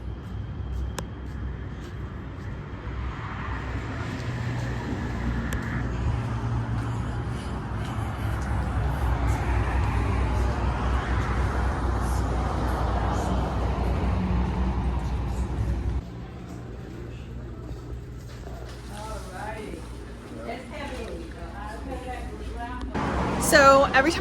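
Car driving along a road, a steady low rumble of engine and road noise throughout, with a person talking over it and a brief quieter stretch near the end.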